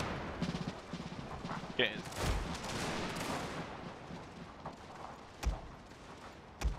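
Gunfire from massed troops in a cavalry battle video game, scattered volleys of crackling shots over a dense battle din, with a brief spoken word early on.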